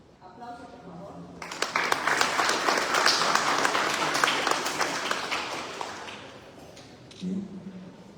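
Applause from an audience at a Day of the Book fair event held by the library and knowledge management office at UNE in Lima, Peru, rising into sustained dense clapping for several seconds, then fading, with brief talk near the start and end.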